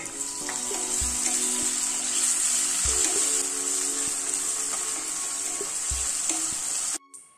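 Finely chopped tomato frying with mixed vegetables in a pan, a steady hissing sizzle with occasional soft knocks of a utensil, ending in a sudden cutoff near the close.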